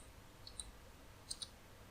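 Sparse, faint keyboard key clicks from a computer running FreeCAD: a couple of light taps, then a quick pair, close and quiet against a hushed room.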